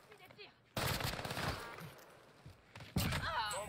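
Gunfire in the video game Warzone Resurgence, two bursts of rapid automatic fire separated by a quieter stretch, close and fairly loud, with faint voices in the background.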